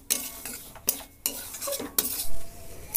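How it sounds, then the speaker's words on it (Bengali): Semolina is dry-fried and stirred in a pan. About five distinct scraping strokes of a metal spatula sound close and loud over a soft sizzle, with no talking. "তা সুজিটা ভেজে নিই"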